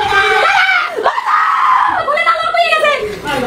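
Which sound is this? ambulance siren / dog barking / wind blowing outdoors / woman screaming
woman screaming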